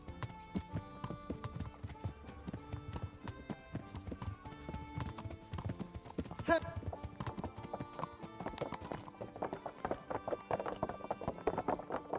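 Steady clip-clop of horse hooves trotting along in the video game Kingdom Come: Deliverance, with a brief whinny partway through and voices talking over the hoofbeats.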